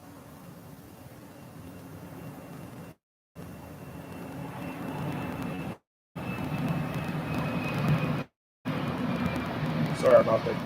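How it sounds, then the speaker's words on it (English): A fixed-wing airplane passes overhead in a steady broadband drone that builds slightly louder toward the end, heard indoors through an open window with brief gaps of silence. "Sorry about that plane."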